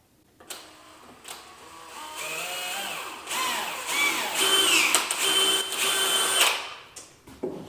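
A power drill whirs in several bursts boring holes in cabinet doors, its pitch rising and falling as the bit bores in, loud and close with brief pauses between holes.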